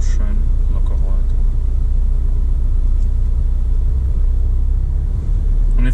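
A learner's car coasts smoothly with the clutch let out during a driving lesson, giving a steady low engine and road rumble that runs throughout at an even level.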